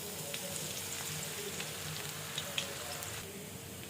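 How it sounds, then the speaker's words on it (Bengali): Minced garlic fries in soybean oil in a pan, a soft steady sizzle with faint crackles and a couple of small pops, quiet and close. "রসুনটা একটু ভেজে নিই।"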